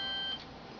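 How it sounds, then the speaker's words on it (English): A cell phone gives a short electronic ringing beep, a thin steady tone lasting about a third of a second before it cuts off, heard alone and fairly quiet. "That's my phone."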